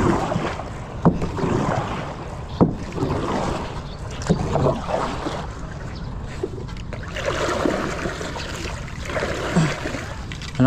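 Oars dip and splash in water as a small boat is rowed in the Philippines, at an irregular pace, with light wind noise over the microphone and occasional knocks against the hull.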